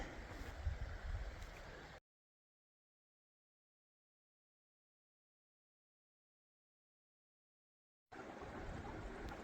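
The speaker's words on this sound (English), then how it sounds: "You can hear the water, but you cannot see it." A steady rush of running stream water, fairly close, broken by a long stretch of silence before the flowing water returns.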